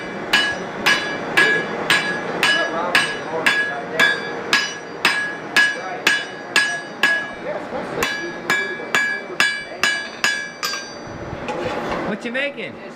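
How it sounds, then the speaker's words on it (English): Blacksmith at a country fair hammering a piece of coil spring straight on an anvil, a steady run of ringing metallic strikes about twice a second, close and loud, with faint voices nearby. "The guy swinging a hammer down here."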